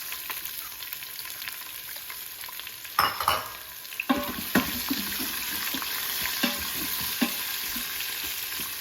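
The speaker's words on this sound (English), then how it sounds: "throw in your onions" Onions go into a pan of frying cumin seeds, bringing a sharp burst of sizzling and clatter, then a steady crackling fry with occasional spatula scrapes and knocks.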